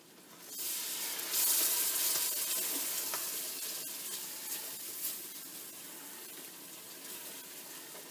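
Milk is poured gradually into a cheese sauce while it is stirred, making a soft, steady, hissing pour close by that runs for several seconds, then fades into quieter stirring.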